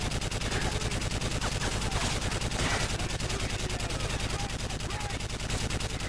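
Sustained machine gun fire from Call of Duty Modern Warfare 3 hammers on in a steady, very fast, loud rhythm that fills the whole stretch, with no talking over it.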